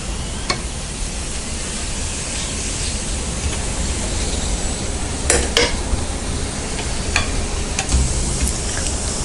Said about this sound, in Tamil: இந்த பக்கமும் நம்ம நெய் விட்டுக்கலாம்.